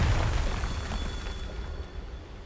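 A Confringo blasting spell explodes in the game Hogwarts Legacy, with a loud deep boom at the start that trails off into a rumbling decay.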